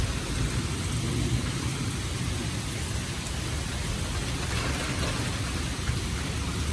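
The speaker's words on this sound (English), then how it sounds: "look at the rain." Heavy rain pours steadily during a storm with tornado warnings, a dense, even hiss of drops on surfaces, close and unbroken throughout, with no voices.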